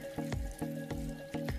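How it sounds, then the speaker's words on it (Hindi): Makeup brushes are rinsed one at a time under an open running tap, water splashing steadily with rhythmic sloshing pulses as each brush is worked through the stream, close and clear with no talking. "आपको इसे खुले पानी में इस तरह से धो लेना है जैसे कि मैं धो रही हूँ"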